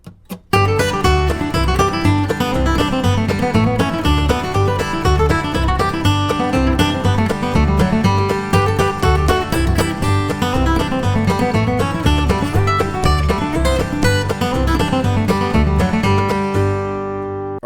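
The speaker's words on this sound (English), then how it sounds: "let's play it up to tempo with the backing track" Fast flatpicked acoustic guitar playing a variation on Blackberry Blossom over a steady backing track, bright and continuous, ringing out at the end.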